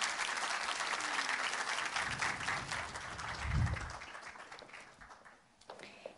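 Audience at a startup demo day applauds a presenting team, a broad wash of clapping that swells and then fades out toward the end.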